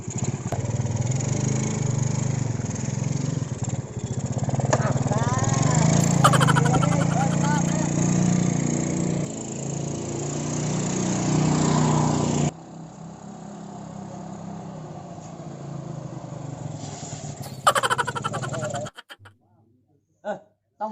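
An old, worn motorcycle engine runs steadily and loudly close by, its rough drone shifting in pitch, while people talk and shout over it before it cuts off near the end.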